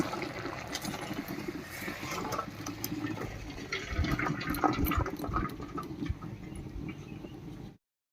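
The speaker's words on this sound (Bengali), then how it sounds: "এবারে ঢাকা খুলে ছেঁকে নিচ্ছি জলটা" Hot water draining off boiled taro, a steady close pour and gurgle of liquid running for several seconds before cutting off abruptly.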